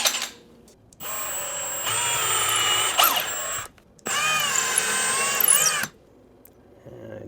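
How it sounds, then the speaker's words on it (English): An electric drill with a 1/8 inch bit drills into a ceiling in two close, whining bursts of a few seconds each, separated by short pauses, with the motor pitch shifting slightly as it bites. "Now we'll drill with an 1/8 inch bit."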